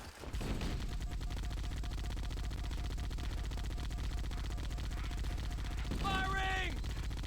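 Rapid sustained gunfire in the video game Halo: Combat Evolved, a dense unbroken rattle of shots lasting the whole stretch, with a brief voice shouting near the end.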